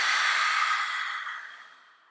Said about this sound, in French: Ouvrez la bouche, expirez, lâchez.